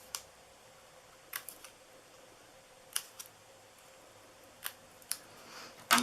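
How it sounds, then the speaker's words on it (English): Scissors snipping paper while a treat pouch is being made: a few brief, sharp cuts spaced irregularly, close and fairly quiet. "we're going to cut this side just like we cut the other one"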